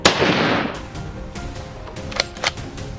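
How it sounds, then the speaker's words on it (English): Hunters fire at a herd of bolting wild boars during a large-scale crop-protection hunt. A loud blast opens and rings out, then two sharper, brief cracks follow moments apart outdoors. "They bolted so fast that we had to fire immediately."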